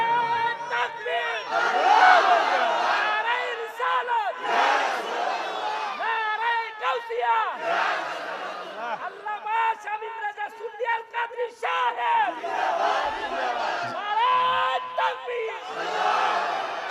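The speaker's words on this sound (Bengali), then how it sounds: "এবার হুজুর একটা জোরে তাকবীর।" A large crowd at a Bengali waz sermon loudly shouts the takbir in unison, with rising and falling chanted voices repeating in long, powerful waves that fill the whole stretch.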